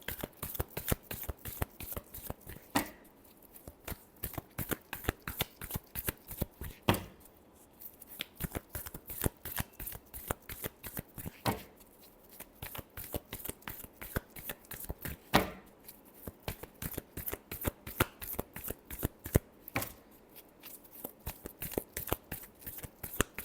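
Tarot cards being shuffled by hand, a steady run of crisp riffling flicks and slaps that pauses briefly a few times before starting again, close and clear with no talking.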